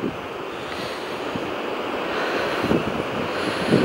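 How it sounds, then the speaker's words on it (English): Steady wind rushing over the open sea, with a soft broadband surf-like wash and microphone buffeting that swells slightly toward the end; no talking. "Hear the gentle wind."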